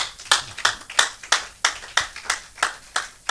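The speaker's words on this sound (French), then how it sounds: "Nous acclamons notre Dieu." Church congregation applauding during a French-language service, with sharp rhythmic group claps in quick steady pulses, close and fairly loud, and no talking over it.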